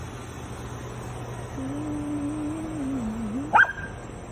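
A drawn-out, wavering whine carries on for a couple of seconds, then one sharp bark breaks out near the end.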